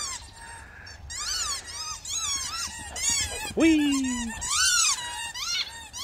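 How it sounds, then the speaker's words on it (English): A squeaky toy being chewed by a pair of excited Boxer dogs gives repeated high squeaks, then one long drawn-out squeal, while a person cheers and chatters over it. "Don't break the squeaky toy, you naughty boy!"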